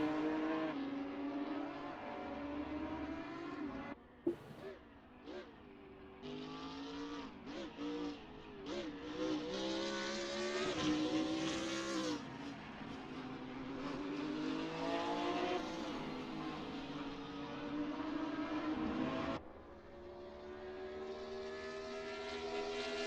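Porsche race car engines howl around the Imola circuit in Assetto Corsa, with steady high-revving tones rising and falling through gear changes and a few sharp downshift blips, loud and continuous throughout.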